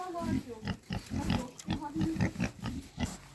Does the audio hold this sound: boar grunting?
yes